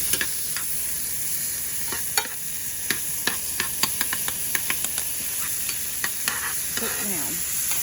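Meat frying in butter in a pan, giving a dense close sizzle and hiss with frequent sharp pops and spatters throughout.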